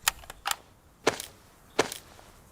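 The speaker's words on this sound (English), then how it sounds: "Take the mag out" Weapon handling in the video game DayZ on the Livonia map as a magazine is pulled from a gun: a few sharp, close mechanical clicks and clacks spaced apart, quiet between them, with no talking.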